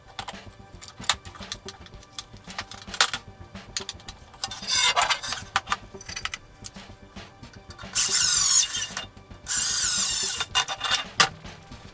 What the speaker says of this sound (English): Now we want to make sure and get these grub screws in